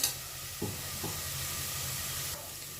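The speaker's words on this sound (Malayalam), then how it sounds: "ഇഞ്ചിടിയും വെളുത്തുള്ളിയും പച്ചമുളകിൻ്റെ ഒക്കെ പച്ചമണം പോണം വരെ ഫ്രൈ ആക്കുക" Chopped ginger, garlic and green chilli frying in oil for chicken biryani give a steady close-up sizzle and hiss, broken by a couple of soft stirring scrapes and a brief surge near the end.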